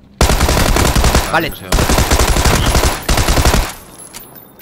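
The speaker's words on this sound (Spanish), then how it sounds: "Me están pegando tiros y no sé dónde, tío." Rapid bursts of automatic gunfire from PlayerUnknown's Battlegrounds, two long loud volleys separated by a short gap and then a third that fades away, with a man's brief words mixed in.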